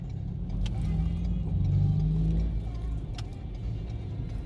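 Cars crawling in rush-hour tollway traffic give off a steady low engine rumble that swells briefly, with a few faint clicks and no talking over it.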